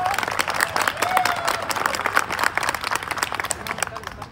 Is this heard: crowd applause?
yes